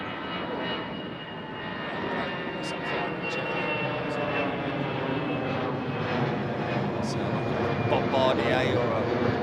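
A Bombardier business jet at London Heathrow Airport gives off a steady, distant engine roar with a faint high whine. Quiet voices murmur underneath now and then.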